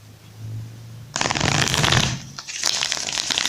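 Tarot cards are shuffled close up: a crisp papery riffle bursts in after a quiet start, pauses briefly, then resumes.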